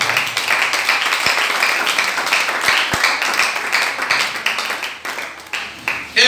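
A church congregation claps in praise of Jesus Christ, a dense, steady patter of many hands with a few sharper claps standing out, close and continuous.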